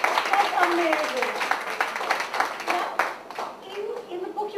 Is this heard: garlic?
no